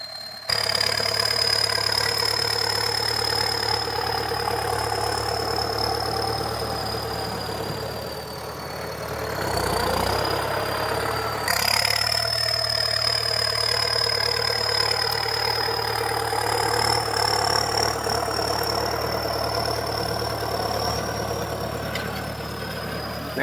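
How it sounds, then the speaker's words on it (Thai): A tractor plows soil between banana trees. Its engine runs close and loud in a steady, unbroken drone, dipping briefly midway before it labours on. "ก็ไถระหว่างต้นกล้วยนะครับ"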